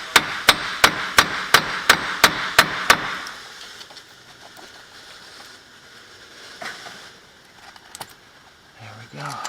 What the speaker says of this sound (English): See if we can hammer the axle back a little bit.